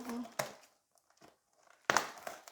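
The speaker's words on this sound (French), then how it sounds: "j'ai crevé des bulles. Ça va se dégonfler." Crinkling bubble wrap with two sharp crackling bursts separated by a quiet pause, close up, as bubbles are cut and popped.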